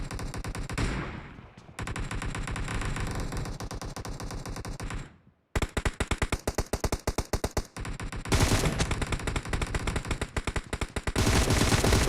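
Rapid automatic gunfire in a shooting video game, long bursts of dense, loud repeated shots separated by short pauses and silences.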